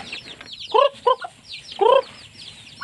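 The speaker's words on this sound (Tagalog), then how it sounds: "Pakainin ko muna pala yung manok." Chickens and chicks at rural feeding time, clucking close by in short, loud bursts separated by quieter gaps.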